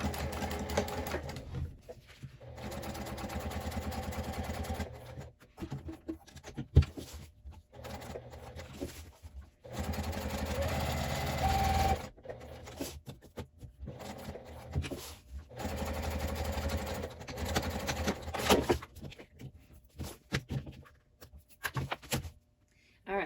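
Sewing machine stitching a box shape around the edge of a bag's lining fabric, with a back stitch at the start and end; bursts of steady mechanical whirring broken by short pauses, with a voice talking at times.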